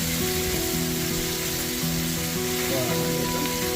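Small chanda fish frying in hot oil at an outing by a beel produce a dense, continuous crackling sizzle, loud and close, with a faint tonal hum running beneath it.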